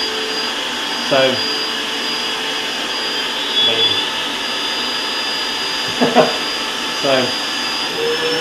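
An ETENWOLF Vortex S6 portable air compressor runs with a steady high whine and hum throughout, loud and close, while someone talks intermittently over it.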